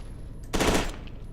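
A single loud, close enemy shotgun blast in the video game F.E.A.R. 2, a short heavy burst that fades quickly over quiet background hum.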